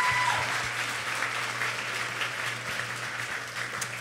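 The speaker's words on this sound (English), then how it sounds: "Let's give her another round of applause" Audience applause for Carrie at a live show, a steady wash of clapping from a crowd that holds evenly and fairly close throughout with no talk over it.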